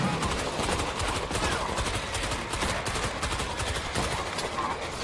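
A manual turret machine gun hammers away in a zombie-shooting video game, producing sustained, loud automatic fire with no letup, dense and close.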